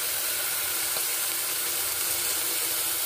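Pork sizzling in a pan of extra virgin olive oil for a homemade vegetable soup, a steady loud hiss and crackle of frying that continues without a break and has no voices over it.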